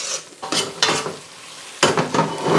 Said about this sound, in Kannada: ಈ ಥರ ಹಿಂಗೆ ಉಂಡೆ ಥರ ಬಂದಾದ್ಮೇಲೂ ನೀವು ಹುರಿತಾ ಇರಿ